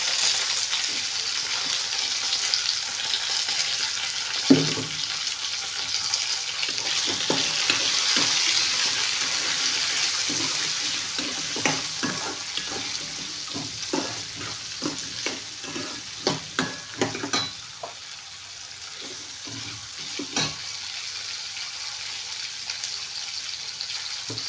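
Garlic and onion frying in a pan for a chutney, a continuous bright sizzle with repeated stirring scrapes and taps, close up, with no talking.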